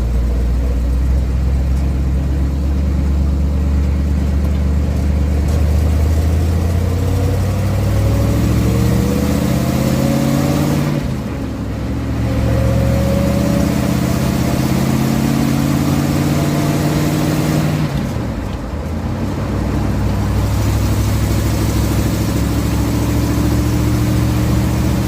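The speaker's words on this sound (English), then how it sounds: "It's actually quiet enough in here now that I can tell the transmission has a little bit of a whine." 1967 Chevelle running inside a car with a Muncie transmission, a steady engine drone with a faint gear whine that rises and falls as the engine revs, with two brief dips in loudness.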